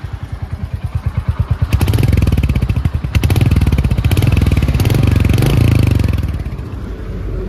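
Royal Enfield Hunter 350, a 350cc single-cylinder motorcycle, idling with a slow, even thump from the exhaust before being revved up several times, each rise a loud rapid throb that falls back toward idle, heard up close.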